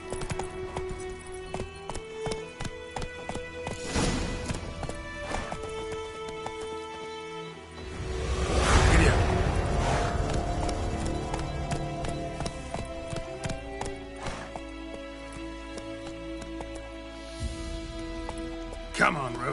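Rhythmic clip-clop of Roach the horse's hooves galloping in The Witcher 3, running continuously beneath a voice, with a surge of louder movement partway through.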